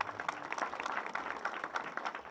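A crowd at an outdoor public event in Homa Bay applauds officers with steady, dense clapping and scattered sharp individual claps, moderately distant and continuing throughout.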